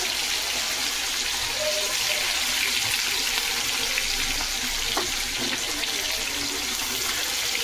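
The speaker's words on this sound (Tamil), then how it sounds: "இது போட்டு பொரிச்சு எடுத்துக்கலாம்" Chicken 65 deep-frying in hot oil gives a steady, close, dense sizzle and hiss that runs unbroken from start to finish, with no voices over it.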